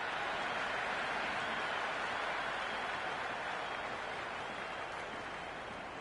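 Virtual stadium crowd in the cricket video game Cricket 26 keeps up a steady, dense wash of applause and spectator buzz, loud and unbroken throughout with no distinct individual voices.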